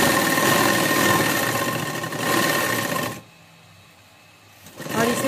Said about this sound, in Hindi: अब हम इसे हटाते हुए दाब सिलाई लगाएंगे इस पर।